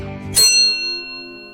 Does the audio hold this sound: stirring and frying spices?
no